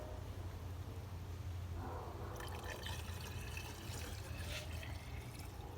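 Washer fluid poured from a container into a car's reservoir to top it off during an oil change, a faint steady trickle and gurgle of liquid over low background noise.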